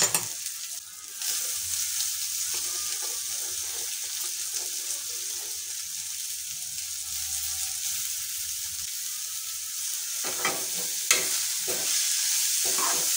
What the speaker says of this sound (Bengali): ধনেপাতাগুলো দিয়ে ভালো করে নেড়ে নিচ্ছি।